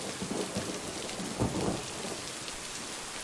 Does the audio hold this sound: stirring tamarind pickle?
no